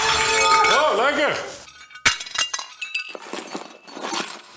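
Glasses clink together during a celebratory toast at the opening of a new holiday park, first under voices and music, then several sharp, bright chinks ring out close by among scattered chatter.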